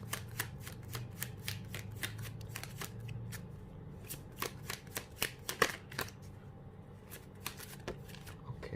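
A deck of tarot cards is shuffled in riffled bursts of crisp flicking and slapping, close and fairly quiet, repeating irregularly over a low steady background hum without speech.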